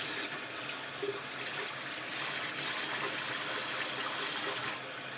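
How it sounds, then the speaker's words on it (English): Running tap water pours over a tie-dye shirt being rinsed in a sink, a steady, loud, unbroken splashing rush throughout. "Again, I'm going to keep rinsing."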